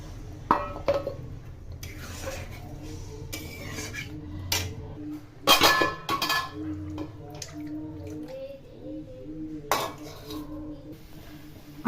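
Water poured into a pan of cooked-down spices while preparing a fish curry, with clinks and scrapes of metal utensils against the pan, brief splashes and sizzling bursts standing out amid steady kitchen clatter.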